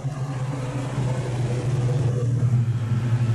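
Production sedan race cars roar around the Gympie Speedway dirt oval during an A-Main race, a loud, low rumbling engine drone with rising revs as the cars pass nearby.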